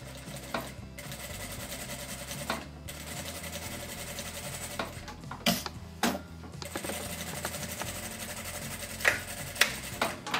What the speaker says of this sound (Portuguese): Fiz a costurinha do meio, agora eu vou fazer a outra, tá? Essa daqui do ladinho.